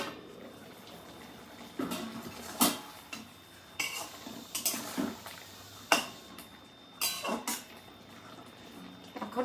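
Metal pot lid clanks and scrapes in several separate knocks while bottle gourd with prawns cooks on the stove, with a faint simmering hiss underneath and no talk.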